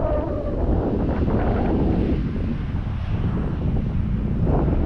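Strong wind buffets the microphone continuously during an RC power glider flight, a loud low roar with gusty surges throughout.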